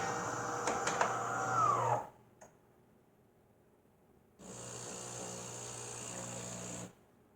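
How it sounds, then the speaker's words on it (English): A De'Longhi Magnifica Start fully automatic espresso machine dispenses espresso with a steady pump hum in two bursts separated by a quiet pause, with faint clicks in between. "here comes the espresso"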